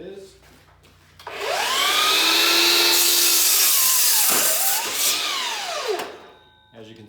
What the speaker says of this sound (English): So I'll do a quick cut for you